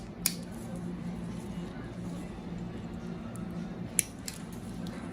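Clippers snip through thick, fungal toenails, two sharp crisp clicks standing out over a quiet room hum while a voice talks.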